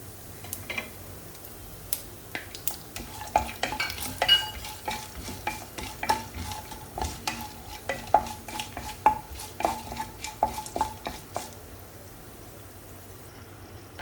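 Urad dal, chana dal and cashews fry in oil for rava upma while a spoon stirs them. Many sharp metal scrapes and taps ring out in an irregular rhythm over a soft, close sizzle, fading near the end.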